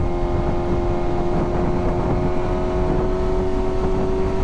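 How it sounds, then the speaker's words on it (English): A loud new motorcycle engine running at a steady idle, a constant close rumble with a sustained tonal hum and no speech. "But it is definitely a loud bike."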